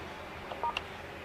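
Keys pressed on a Panasonic PABX 824 phone produce a few short, quick DTMF beeps, faint over a low steady background hiss.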